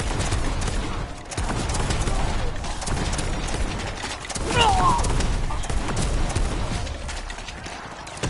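Explosions and gunfire in a two-player video game run, dense rattling bursts and booming blasts piling up continuously, with game effects and music layered through the mix.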